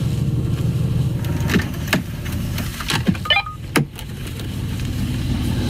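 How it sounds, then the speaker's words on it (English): Inside a new Porsche 911, an electric seat motor whirs in several short bursts with stops between, close and moderately loud over a low cabin hum. "Let's just move the seat into a really awkward position"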